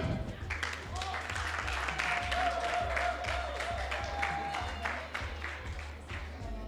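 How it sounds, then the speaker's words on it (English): Audience clapping for Kenyan dancers at a celebration summit dinner gala, a steady patter of hands over a pounding music beat, with a voice now and then. "A round of applause for them."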